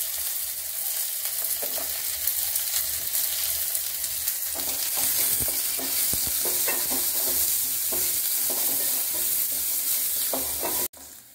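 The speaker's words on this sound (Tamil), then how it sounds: "வெங்காயம் கொத்தமல்லியெலாம் நம்மளுக்கு வதங்கிடுச்சு" Onion, coriander, garlic and spices sautéing in hot oil for a Tamil brinjal tamarind gravy, a steady loud sizzle with repeated scraping stir strokes throughout, cutting off abruptly near the end.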